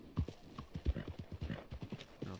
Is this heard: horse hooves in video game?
yes